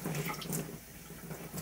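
Water runs from a tap to scrub rusty pinball machine legs, a steady close splashing stream with no talk.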